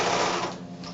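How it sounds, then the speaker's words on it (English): A sewing machine runs a quarter-inch seam around three sides of a pillowcase with a fast, continuous whirring hum, close and steady, with no talking. "So I'm back to the sewing machine, and I'm going to sew around again just that 1/4 inch seam allowance all the way around the 3 sides"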